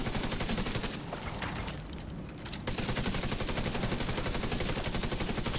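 Enemy gunfire in the shooter Division 2, sustained rapid machine-gun bursts rattling steadily for several seconds, briefly thinning near the middle before resuming at full intensity, with no voices.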